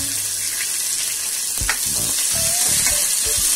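Green chilli and chopped onion fry in hot oil for a tomato bread butter masala, with a steady loud sizzle, a brief clatter from the pan near the middle, and some stirring scrapes toward the end.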